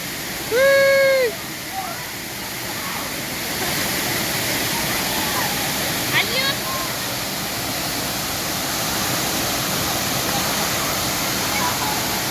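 Steady roaring rush of Vattai waterfall, swollen and muddy after heavy rain, fills the whole scene, with a brief high tone near the start and a faint voice briefly rising above it.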